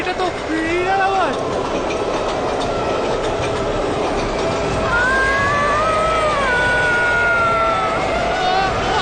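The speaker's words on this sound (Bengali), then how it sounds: "আমি ট্রেনটা দেখতে চাই।" A train rumbles past close by as a steady dense wash of rail noise with whining wheel tones, while voices chatter faintly underneath.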